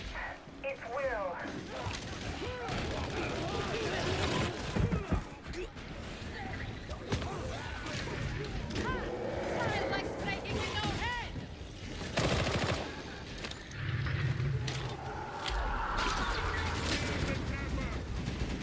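Pistol gunfire in Warhammer 40k: Darktide, a grim sci-fi shooter, with sharp shots crackling among dense battle noise, clattering impacts and game voices talking throughout, the firing spread in irregular bursts across the stretch.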